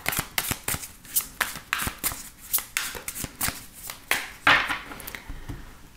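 Tarot cards shuffled by hand in a steady run of crisp riffling slaps, close and fairly loud, with a brief brighter rustle near the end as the deck is cut; no talking.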